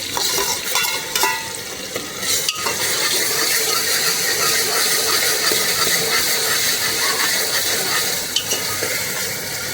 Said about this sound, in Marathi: कांदा लाल झालेला आहे आता आपण टॅमेटो टाकूया